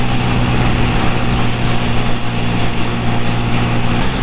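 A CFMOTO Papio 125 motorcycle engine hums in a steady, even drone while riding, with constant wind rush layered over it, close and loud throughout.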